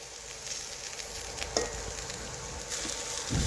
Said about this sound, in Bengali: আমি এখানে নিরামিষভাবে করলা ভাজছি